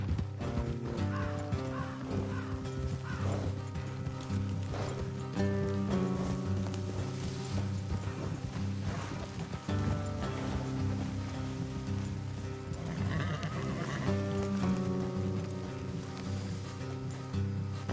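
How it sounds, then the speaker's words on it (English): Horses in Red Dead Redemption clop along under a constant wash of rain and background score, with hoofbeats and an occasional snort audible, and no clear talk over them. "Let's leave the horses here and go the rest on foot."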